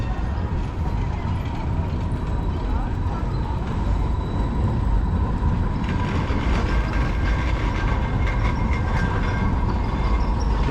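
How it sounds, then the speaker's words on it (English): A train rolls past on rails through Freiburg im Breisgau, a loud, close, continuous rumble with rising metallic wheel noise and screeching partway through, heard outdoors amid city ambience. "Here's another train coming."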